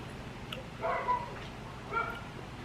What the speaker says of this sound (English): Do you hear him? He gets all worked up by that neighbor dog.